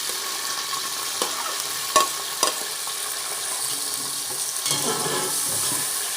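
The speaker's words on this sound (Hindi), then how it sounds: "साथ ही मैंने ये जो प्याज का स्लाइस में काटा हुआ था वो डाल दिया इसमें" Sliced onions and whole garam masala frying in hot oil for shaljam gosht (turnip and meat curry), a steady sizzle with two sharp spoon knocks on the pan and then louder stirring, no voices.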